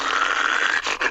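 A cartoon dog growls in one continuous rough, loud rumble that breaks briefly near the end, with no voices over it.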